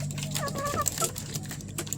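Chickens cluck and chatter close by in a busy cluster, with some light background noise and a faint voice mixed in.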